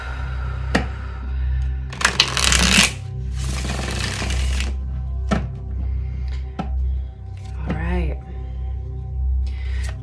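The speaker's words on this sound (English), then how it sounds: "These have all been pre-shuffled, but we'll do one or two just for good measure." Tarot cards shuffle in two dense riffling bursts close to the mic, followed by scattered taps and soft card handling, with a quiet steady hum underneath.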